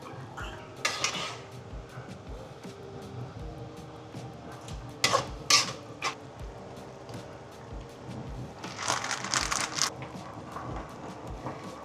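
Pasta stirred in a pan at home, with soft scraping and clinking of a utensil against the metal, mostly steady with a few louder bursts of clatter amid background kitchen noise.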